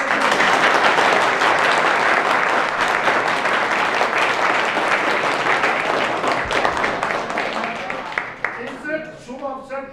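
An audience at a birthday charity event in a blind people's ashram claps in a dense, steady round of applause that thins out toward the end as a voice begins to speak.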